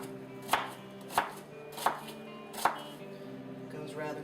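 A knife chops yellow onions on a cutting board in four evenly spaced, crisp thuds, close and fairly quiet, with no talk.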